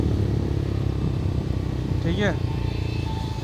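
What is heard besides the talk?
Bajaj Pulsar NS400Z motorcycle riding, exhaust sound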